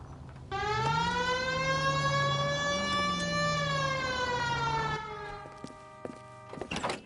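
In the video game L.A. Noire, a police car siren wails loudly for about four and a half seconds with a slowly rising and falling pitch, then cuts off, leaving faint background noise.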